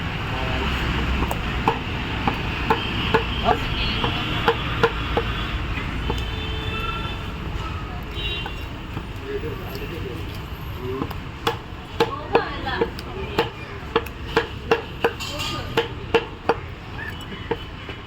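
Pigeon meat being finely chopped with a cleaver in a busy shop, a steady series of sharp knocks on a board that grows louder and more rapid toward the end, over background traffic hum and occasional voices.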